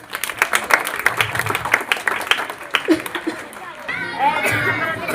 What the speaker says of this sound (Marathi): खूपच छान बाळा, टाळ्या वाजवा.